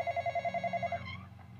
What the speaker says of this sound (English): Okay, Rainbow Cat, I want to answer the phone first